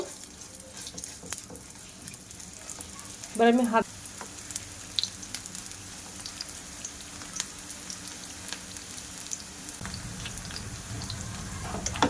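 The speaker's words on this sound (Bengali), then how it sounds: "তেলটা গরম হয়ে গেছে এবার আমি পেঁয়াজিগুলো ভাজা করে নেব" Onion pakoras, made without gram flour, fry in hot oil in a pan, a constant soft sizzle with a brief clatter of handling. A few words are spoken once, briefly.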